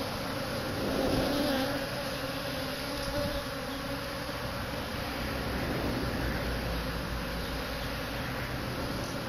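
A honeybee swarm buzzes in a dense, continuous drone as the bees land on and move into a hive outdoors, loud and close throughout.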